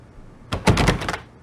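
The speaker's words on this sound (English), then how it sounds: "Escucha la puerta." In the Agatha Christie Evil Under the Sun game, a locked door is tried with a quick, clattering rattle of the handle and latch lasting under a second, close and fairly loud, with no voices.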